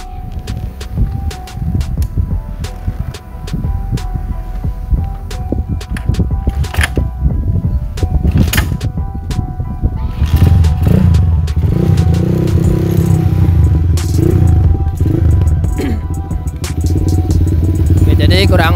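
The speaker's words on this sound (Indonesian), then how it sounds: "coba kali ini kita hidupkan bagaimana suara dari knalpot yang tanpa merek ini ya" A fully modified GL 100 motorcycle with an unbranded exhaust idles and revs steadily with a throaty, rumbling exhaust, close up, with clicks and mechanical rattles over the drone.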